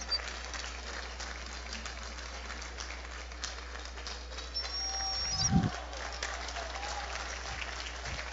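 Outdoor audience applause in a municipal garden following a summer-tour trombone ensemble concert, a steady faint patter of clapping throughout that swells briefly near the middle, with a few birds and a soft distant voice in the background.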